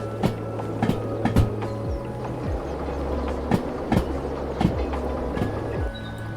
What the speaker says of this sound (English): I like these sounds of like the clack sound that it makes.